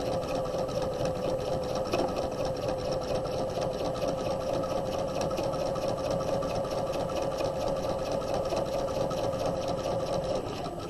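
A sewing machine edge stitches close to the raw edge of a tote bag lining, running in one steady, even whir for the whole stretch with no pauses and no talk.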